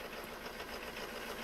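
A truck engine in Farming Simulator 19 idles with a vibrating exhaust, a steady, faint buzzing drone that holds constant throughout with no talk.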